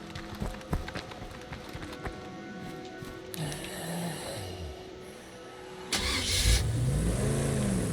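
A car engine in the State of Decay 2 video game cranks and catches, then revs and runs with a rising and falling mid-pitched drone, loud and close with no talking.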